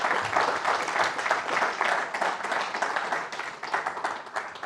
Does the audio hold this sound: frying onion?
no